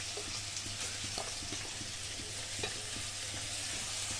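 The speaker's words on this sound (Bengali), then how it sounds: "তারপর পেঁয়াজ আর কাঁচামরিচ দিলাম। এখন এটা আমি ভাজবো" Onion and green chili frying in hot oil give a steady, dense sizzle with faint stirring clicks scattered through it, all close and even in level from start to finish.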